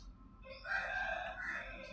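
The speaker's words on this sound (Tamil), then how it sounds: "சேவல் பையன் கத்துறான், அவன் ஆசீர்வாதமும் இருக்கட்டும்." A rooster crows in the middle distance at an outdoor spot where prayers to Murugan are being offered, one sustained call rising and holding for over a second over faint background hum.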